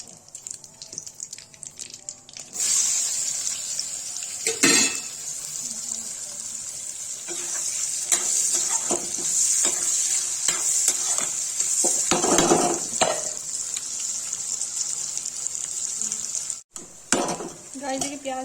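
Sliced onions frying in a pan over already fried potatoes for an aloo palak dish, with a steady loud sizzle. Frequent scraping stirs sound through it, and there is a brief break near the end.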